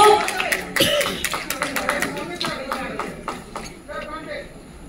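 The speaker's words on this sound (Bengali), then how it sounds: "একটা জোরে হাততালি" A crowd applauding at an awards ceremony, with brisk clapping that rises and then trails off over a few seconds while a host speaks over it.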